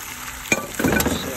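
Cooked rice tossed into a hot pan with garlic fried until golden, a brief clatter followed by a short burst of close, loud stirring and sizzling.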